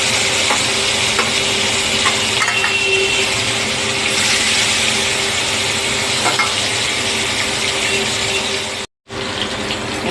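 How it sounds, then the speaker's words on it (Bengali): Hilsa fish pieces frying in hot oil in a home kitchen, a loud continuous close sizzle and crackle that drops out for a moment near the end and then resumes. "এই মাছ ভাজা হয়ে গেছে, লাল লাল করে ভেজে নিলাম"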